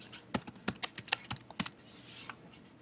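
A computer keyboard is typed on quickly and nearby, filling in a medication entry on a hospital admission form with a rapid burst of crisp keystrokes that trails off.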